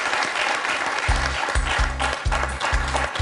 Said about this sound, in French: On peut l'applaudir, Jean-Christophe.